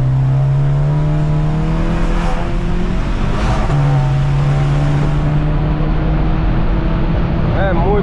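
A Volkswagen Jetta GLI engine roars loudly and steadily at about 200 km/h, its pitch climbing, dipping briefly and rising again, with a voice speaking over it inside the closed-window cabin.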